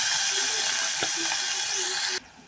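Chopped onions hitting hot oil with bay leaf, cardamom, cloves and star anise in a pressure cooker, a steady close sizzle that cuts off sharply near the end.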